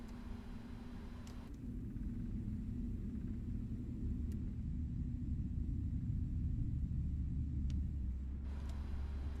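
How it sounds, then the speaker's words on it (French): A low engine rumble swells and settles into a steady, droning roar as a Boeing 777-300ER's number one engine spools up in a flight simulator game, with no voices. "C'est parti, le moteur numéro 1."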